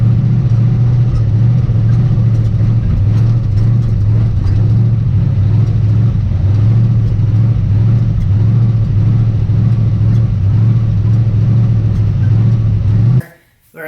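A truck engine with a suspected computer or transmission fault drones loud and steady while driving, holding a constant low hum, then abruptly cuts out at the very end.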